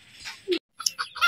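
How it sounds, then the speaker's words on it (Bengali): Farmyard fowl in a village yard where ducks and chickens are kept, giving a few short, fairly close honks and clucks with a brief gap between calls. "গ্রামে হাঁস মুরগি আপনার প্রত্যেকটা বাড়িতেই আছে।"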